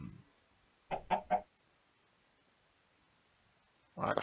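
A Minecraft chicken clucks in three quick bursts, moderately loud and alone, with another short burst rising at the very end.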